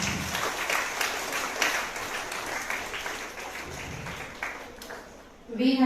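An audience in a school auditorium applauding, a steady wash of clapping at moderate level that fades toward the end as a voice comes in.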